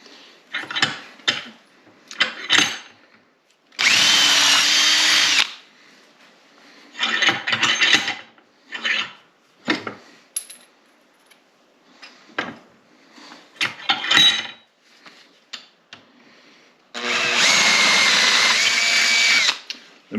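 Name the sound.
power drill drilling holes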